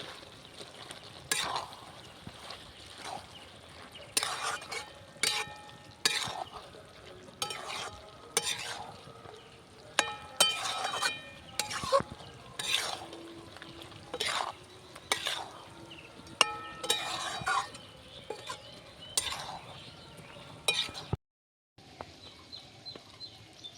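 Chicken liver and gizzard bhuna with fresh coriander and slit green chillies being stirred in a pan at home, a spoon scraping and clinking in steady repeated strokes over a soft continuous sizzle, close and clear with no talking.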